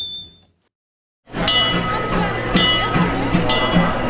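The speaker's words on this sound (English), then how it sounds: "What a comforting sound, the sound of the train." Disneyland train passing after a brief silence, a steady low rumble with scattered metallic clinks and clangs of rail cars, fairly loud and continuous with crowd murmur in the background.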